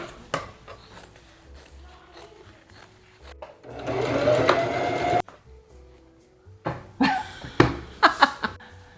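A sewing machine stitches through fabric in short bursts, with one longer whirring run in the middle, close up amid clicks and handling noises.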